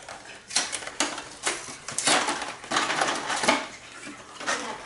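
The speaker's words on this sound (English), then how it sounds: "our veggie broth is already in the pot. And I'm adding to that the pasta" Dry pasta tumbles into a pot of veggie broth for mac and cheese in a series of uneven rattling, clattering pours with brief pauses between them, close and moderately loud.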